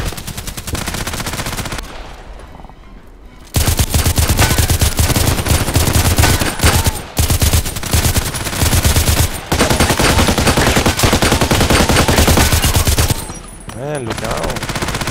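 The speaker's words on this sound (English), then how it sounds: "Should also use the small machine gun." Automatic gunfire from a small machine gun in the shooter game Contract Wars, loud rapid bursts running almost continuously with a brief lull near the start and another near the end.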